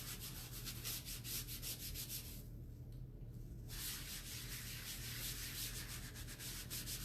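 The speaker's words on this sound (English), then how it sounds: "So I'm just going to rub this transfer like this." Chalk transfer being rubbed off a screen by hand, a steady rapid scratchy rubbing with a brief pause midway, close and fairly quiet.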